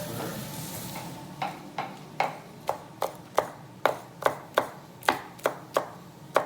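A knife chopping pepper on a cutting board while preparing Italian tripe in tomato sauce, about a dozen crisp, evenly spaced cuts growing steadily louder and close, over faint kitchen background.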